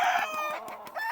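A gamefarm broodcock rooster gives a short, close crow, a brief harmonic call lasting about a second, heard alone.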